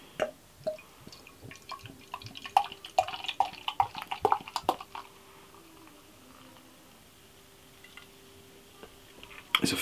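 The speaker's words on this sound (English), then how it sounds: "let's pour it out and see what's going on" Shepherd Neame Bishop's Finger, a dark amber beer, splashes and trickles as it is poured, with bursts of uneven pouring noise over the first half. Quieter fizzing carbonation follows, with one last splash at the end.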